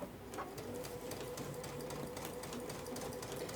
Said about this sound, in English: I'm going to sew this down